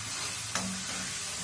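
A mixture is stirred in a pan on the stove after tomato sauce goes in, a soft continuous sizzle with a brief scrape of the spoon midway, close and fairly quiet, no voices.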